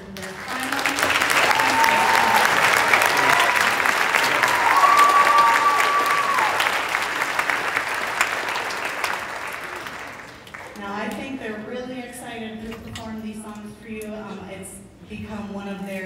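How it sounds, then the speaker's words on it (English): An audience applauds an elementary school orchestra at its final concert, dense clapping for about ten seconds that then fades as a voice begins speaking. "can I have a round of applause for their final?"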